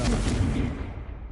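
A fiery Confringo spell explosion in Hogwarts Legacy lands as one loud, deep boom and rumbles away over about a second.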